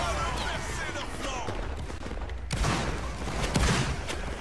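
Massed musket volleys crackle across a large Napoleonic-era video game battle with thousands of players, dense overlapping shots rolling in waves with a heavier burst midway, under scattered voices.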